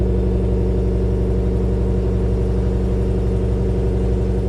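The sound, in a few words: 2022 Chevrolet Tahoe Z71 6.2L V8 engine with dual exhaust idling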